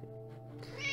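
A cat meows in the horror game Ultra Custom Night, a single close, loud meow that rises toward the end of the second.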